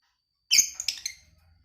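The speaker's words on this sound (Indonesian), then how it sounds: "Ada perenjak, suara perenjak." A prinia (perenjak) gives a short burst of high, thin chirps and trills, clear and close, with nothing else around it.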